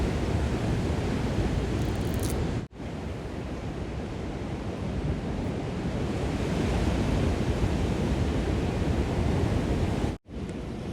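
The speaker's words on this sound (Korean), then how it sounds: "제가 파도가 제일 많이 치는 그런 도로에 서 있었네요" Ocean waves pound the shore beside a coastal road on Korea's east coast near Goseong, Gangwon, a steady, loud surf roar mixed with wind buffeting the microphone, with no voices.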